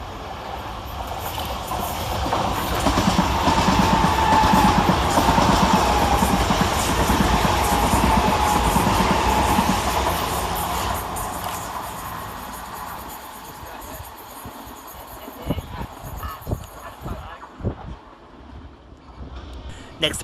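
Class 387 electric trains pass through Preston Park station on the Brighton main line, a loud rushing rumble that swells and then fades away, with wind buffeting the microphone and scattered knocks as it recedes.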